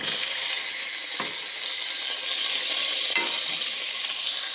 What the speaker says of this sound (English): I'm going to fry all these things together